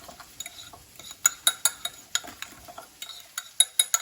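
Seasoned egg and potato get tossed in a skillet, with a rapid run of sharp metallic clicks and scrapes of a utensil against the pan, close and fairly crisp, with no voices.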